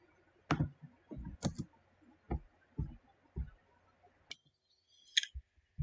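A computer mouse clicks in sharp, isolated taps, about a dozen irregularly spaced clicks close up in an otherwise quiet room.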